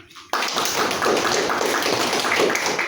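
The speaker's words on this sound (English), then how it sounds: "Please give applause." Applause from a debate audience breaks out after a brief pause and continues as dense, steady clapping with sharp taps, fairly close and sustained throughout.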